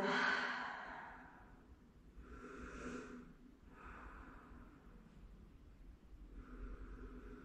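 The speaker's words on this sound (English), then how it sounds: "and breathe, cleansing breath" A few deep, slow exhales during a yoga session, soft breathy sighs spaced apart in a quiet room.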